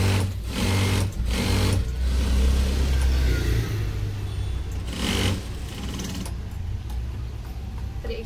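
A sewing machine stitches a cross strip onto a blouse fabric lining, running steadily up close with short bursts and a continuous mechanical whir that rises and eases.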